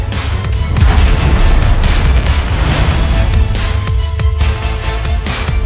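A heavy artillery gun fires a shot in World of Tanks on the Himmelsdorf map, a loud booming blast followed by a dense, sustained roar of battle noise with no talking.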